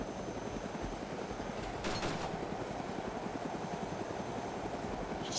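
A helicopter flying in the video game Arma 2 DayZ gives a continuous rumbling, chopping drone throughout, steady and fairly loud, with a brief brighter swell midway.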